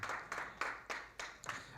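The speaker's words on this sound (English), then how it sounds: "A round of applause for him," Several bursts of faint, distant audience applause at a budget launch event, coming in short rhythmic surges with quiet gaps between them.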